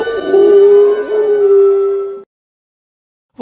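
A long, wavering dog howl from the tramp holds steady for about two seconds, loud and close, then cuts off into silence.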